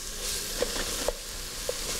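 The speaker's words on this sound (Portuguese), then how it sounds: "Ó, refoguei, dei um sustinho na carne" Meat searing in a hot pan while preparing spaghetti, a steady close sizzle with a few sharp pops and faint stirring scrapes.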